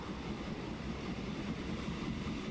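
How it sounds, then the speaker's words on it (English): A train in the railway building game Transport Fever gives a steady low rumble and hiss, even and continuous at moderate level, with no talk over it. "so train's coming out there."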